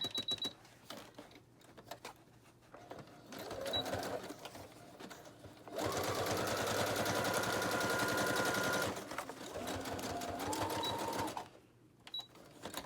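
Zigzag stitching on a gift bag junk journal with a sewing machine, a fast rattling drone that starts and stops in several bursts of a few seconds each, close and fairly loud, with brief pauses between runs.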